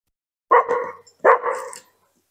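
A dog barks twice in the woods of Roddlesworth near Tockholes, two loud, close, separate barks less than a second apart, followed by quiet.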